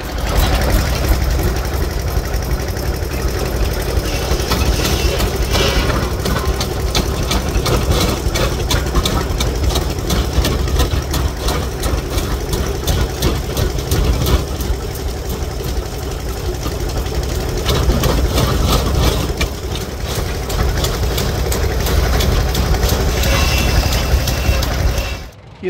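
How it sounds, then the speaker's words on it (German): A vintage Hanomag R22 tractor engine runs at a Lanz Bulldog tractor meet in Brokstedt, Germany, with a steady, loud, low chugging sound that continues for the whole stretch, and faint background voices. "Hier kommt gerade ein Hanomag R22."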